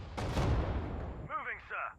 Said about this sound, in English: The bank of the canal is fully covered by their artillery.